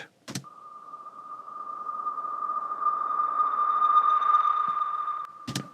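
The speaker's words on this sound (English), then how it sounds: "Then I've got this tonal riser." A tonal riser sweep with tape reverb in an Afro house production: a sustained, bright synthetic tone swells steadily louder over several seconds, set off by short clicks at the start and end.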